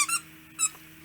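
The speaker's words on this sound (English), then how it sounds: "decided to get a squeaky apple out" A squeaky apple-shaped dog toy gives two short, bright squeaks about half a second apart, close and fairly loud, with quiet in between and no talking.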